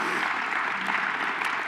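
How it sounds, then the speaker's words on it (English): A room full of guests applauding at a university's 175th anniversary gala, a dense, even wash of clapping that holds steady without a break. "Let's give him a round of applause."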